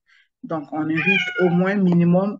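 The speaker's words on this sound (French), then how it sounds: "ça, c'est mon chat qui veut aussi participer à l'émission" A house cat meows loudly and repeatedly in a drawn-out, wavering cry, close by, briefly overlapping a French-speaking voice at the start.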